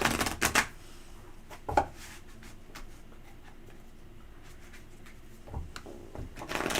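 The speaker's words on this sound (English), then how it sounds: "I'm going to go ahead and use my Ibis Tarot. And I'll let you shuffle first." Ibis tarot cards being shuffled by hand in a quiet room, with irregular soft riffles and slaps separated by pauses and faint background hiss.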